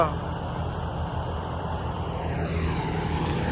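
A steady tractor engine drone with a low, even rumble throughout, running nearby; no clear voices stand out.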